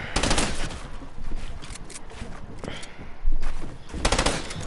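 Video game gunfire: loud, rapid bursts of automatic shots in several clusters, close and sharp, with quieter gaps between volleys.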